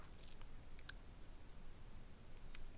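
A single crisp computer mouse click sounds once, very faintly, against quiet room noise with a few soft ticks around it.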